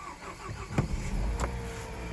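A Nissan Juke 1.2 turbo engine that won't idle starts and runs rough, a low uneven mechanical drone with a couple of sharp bumps, heard close and alone.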